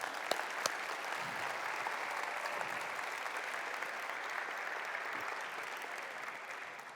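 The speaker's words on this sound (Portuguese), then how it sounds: "Vamos dar um aplauso a Jesus por isso." A church congregation claps together in a sustained burst of applause, dense and even for about seven seconds, with a few sharper individual claps near the start and a slight fade at the end.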